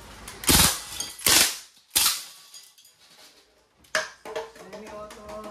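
DPMS CO2-powered blowback airgun rifle firing on full auto, close and loud in a few short bursts of sharp pops with mechanical clatter, separated by brief pauses.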